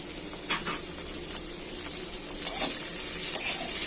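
Chopped onion sizzles softly in a pan, a steady crackling hiss with a few faint stirring sounds.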